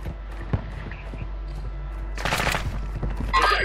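Gunfire in Warzone 2 on Ashika Island, Resurgence mode: bursts of automatic weapon fire with thumps, loudest in dense bursts near the end, over steady game ambience.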